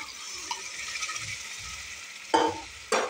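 Cooked vegetables stirred into a pan of frying onion and tomato for butter pav bhaji, a steady low sizzle with soft scraping strokes and two louder clanks of a spoon near the end, close and without talk.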